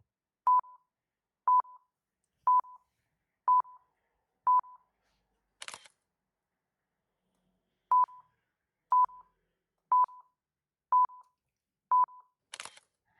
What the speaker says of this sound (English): So I've made a sound that's countdown.